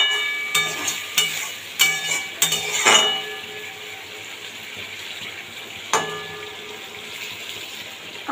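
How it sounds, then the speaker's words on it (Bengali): A spoon scrapes and knocks in quick bursts as water is stirred into a spice masala in a pan. A low simmering hiss runs underneath, and the clatter comes in a cluster early on, then once more later, close and fairly loud. "আগে দেবো অল্প জল, দিয়ে ভালোভাবে মশলাটার সাথে মিশিয়ে নেব"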